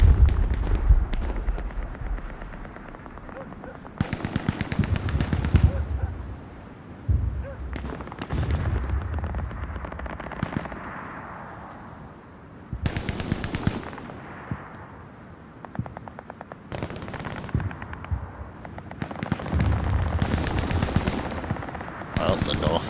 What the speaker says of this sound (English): Ekran still just sat back on his MG.